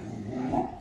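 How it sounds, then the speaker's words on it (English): Dogs play together with a short, close, low growl, a rough throaty rumble lasting under a second. "These dogs, I'm sorry, guys."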